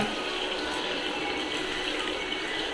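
Water pours steadily into chutney for mixing, a continuous near splashing rush with no break and no talk.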